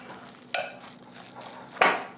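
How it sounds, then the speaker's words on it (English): Latke batter of grated potato, egg and flour being mixed in a bowl, two sharp scraping clinks of a utensil against the dish with quieter stirring between them, close and without talk. "I want to get it really good and mixed though, until it's uniform in color"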